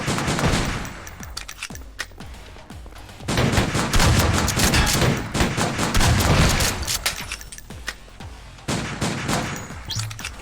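Gunshots in the VR shooter Silicon Rising crack out in irregular rapid bursts and single shots, loud and sharp, with short pauses between volleys.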